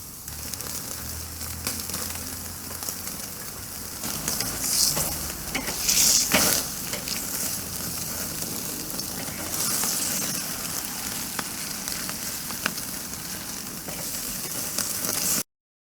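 Shoulder-cut lamb chops, sous vide first, sizzle on an outdoor grill at night in a steady, crackling hiss that carries on throughout, with a few louder bursts of spitting fat and small clatters near the grate.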